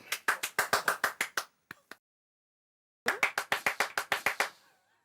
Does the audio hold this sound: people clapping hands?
yes